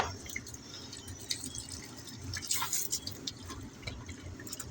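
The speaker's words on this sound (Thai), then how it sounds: "เอาน้ำพรมนิดนึงให้มันมีความชื้น ความชื้น เปิดน้ำนิดนึงก็" Water lightly sprinkled from a hose onto soil to moisten it for sugarcane planting, heard as faint, scattered pattering drips over a soft background hum.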